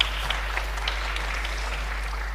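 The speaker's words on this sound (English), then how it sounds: "a big applause." An audience at a business pitch event applauds a startup founder's pitch with sustained, dense clapping over a low steady hum from the room's sound system, fairly loud and continuous throughout.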